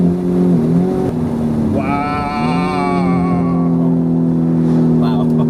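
A 2020 Lamborghini Urus engine in sport mode, loud and close, with a rising tonal roar that climbs in pitch as the car accelerates. People react and talk excitedly over it.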